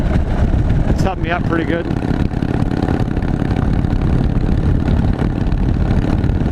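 Steady drone of a 2013 Harley-Davidson Dyna Super Glide motorcycle engine cruising in sixth gear at around 2,300 RPM, with continuous wind and road noise and someone talking briefly over it.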